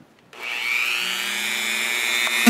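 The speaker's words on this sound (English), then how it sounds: "got a Dremel with a drill bit to put holes on the side and the bottom" A Dremel rotary tool with a drill bit bores holes in the side and bottom of a plastic milk bottle, a loud steady high whine with a slowly rising pitch lasting over two seconds after a sudden start.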